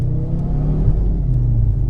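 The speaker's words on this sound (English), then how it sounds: "It does sound good though, doesn't it? It's got a nice exhaust on it." A Fiat Coupe fitted with a Lancia Delta 16-valve engine and an aftermarket exhaust revs loudly and close, a deep, steady rumble from engine and exhaust with no voices over it.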